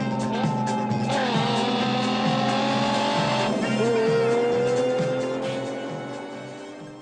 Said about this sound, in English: The car is a 1979 Lamborghini Countach LP400 S.